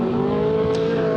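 Ford Escort rally car engine droning hard in the rain on a 1984 Donegal rally stage, a steady loud high-revving tone held through a brief moment.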